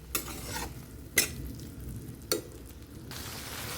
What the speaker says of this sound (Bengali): একটু জল দিয়ে এটাকে কষে নেব যতক্ষণ এই মশলাটা থেকে